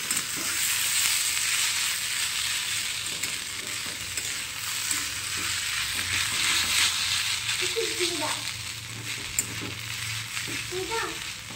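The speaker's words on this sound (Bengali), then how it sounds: "সব নাড়ে চেড়ে একসাথে মিক্সড করে নিচ্ছি" Maggi noodles stirred with sauce in a frying pan, a continuous sizzle with soft scraping and stirring scrapes throughout, a voice briefly audible near the end.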